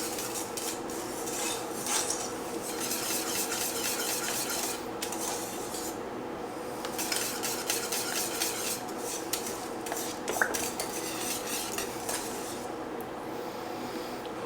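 Butter is stirred into choux pastry dough in a pot for profiteroles, a steady scraping and rubbing of a utensil against the pot with occasional light clinks, close and unbroken by talk.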